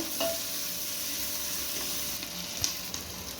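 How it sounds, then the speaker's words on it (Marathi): Chopped onion frying in a pan while being stirred, a steady close sizzle with occasional soft scrapes and a faint clink, no voices present. "एक कांदा चिरून घेतलेला आहे तो टाकून घेऊ व्यवस्थित हलवून घ्यायचं"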